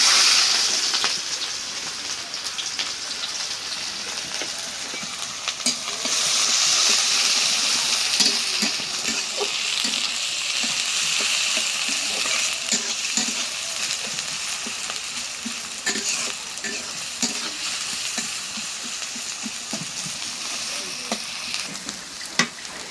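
Onions frying in a pan of oil after potatoes have been fried produce a loud, constant sizzle with scraping stir strokes throughout and no talking.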